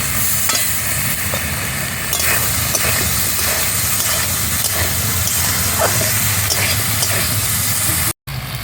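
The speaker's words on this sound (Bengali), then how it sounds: "মশলাটাকে ভালো করে কষিয়ে নেব।" Spice paste (masala) with tomato for a shol fish curry fries loudly in a pan, a steady dense sizzle broken by scraping stirs, with no talk and a brief dropout near the end.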